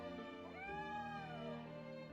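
A single drawn-out cat meow from Triangle Strategy, rising then falling in pitch over steady game music, moderately clear and unaccompanied by talk.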